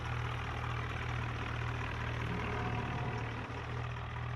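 A tractor engine idles steadily as it is parked, a constant low rumble with no break.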